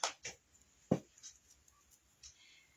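Artificial Dollar Tree wildflower stems snipped apart with cutters: a few sharp, close clicks and snaps spaced irregularly, one louder cut standing out, against a quiet background with no talking.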